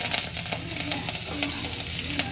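Curry leaves, mustard seeds and cumin sizzle in hot oil while being stirred for sambar, giving a dense, close, continuous crackle with a few scraping stirs.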